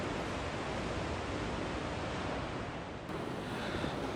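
Ocean surf at the Choshi coast in Chiba, near Inubosaki, as a continuous loud wash of waves mixed with wind buffeting the microphone, with no voices.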